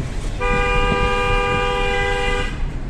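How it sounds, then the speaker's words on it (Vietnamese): A loud, steady horn of a 7-seat automatic car blares continuously for about two seconds over background road and engine noise. "đấy còi to thế cơ mà"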